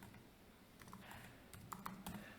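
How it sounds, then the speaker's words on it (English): Quiet clicks of arrow keys pressed on a computer keyboard, a handful of separate taps spaced irregularly, close and faint with no talking. "Notice I'm moving around with those arrow keys on the keyboard."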